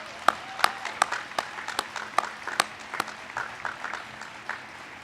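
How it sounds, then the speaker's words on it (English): A small audience at a university fall address on campus applauds with sparse, distinct claps, irregular and fairly close, rather than a full dense ovation. "Let's give all our folks in facilities a big round of applause."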